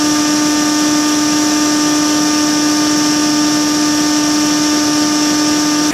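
A corded Wessel-Werk EBK360 vacuum power nozzle runs close and loud with a steady high-pitched motor whine and strong tonal hum, sustained without a break and with no voices.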